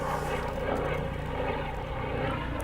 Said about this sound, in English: Meanwhile, I also hear another chopper flying over.